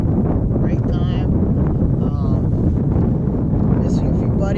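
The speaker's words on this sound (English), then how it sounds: "Here a bit windy" Strong wind roars steadily across the microphone beside a lake while fishing, a loud continuous rumble with someone talking underneath.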